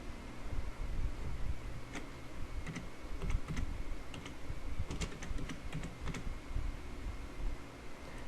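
Quick, irregular clicks of typing on a computer keyboard as a blog title is entered, the keystrokes coming in short bursts over a steady low background hiss.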